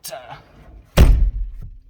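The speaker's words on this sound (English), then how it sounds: "I gotta close this door." A car door on a Nissan S13 is swung shut in one solid slam near the mic, preceded by a brief rustle and followed by a fading rattle, with a quick spoken word at the start.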